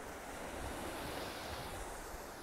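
Ocean surf washing steadily onto the coast on the last stretch of a Camino del Norte walk, a continuous broadband roar with wind noise buffeting the microphone and no voices.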